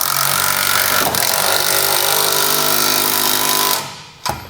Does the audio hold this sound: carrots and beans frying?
no